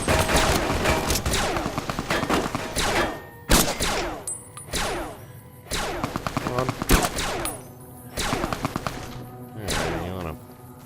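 Gunfire in the video game Fallout New Vegas: repeated bursts of loud, close shots and rapid volleys with sharp cracks and thuds, spread across the whole stretch with brief pauses between bursts.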